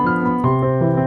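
Piano sounding a short cadence through the dominant of the dominant, in a lesson on the first movement of Beethoven's Piano Sonata No. 1: sustained harmonic chords that shift twice, played alone at a moderate level.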